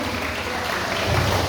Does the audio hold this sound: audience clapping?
yes